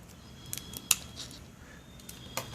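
Scissors snip the stem of an Echeveria Luella succulent for a cutting, giving a few faint close clicks with one sharp snip standing out, followed by another light click in an otherwise quiet room.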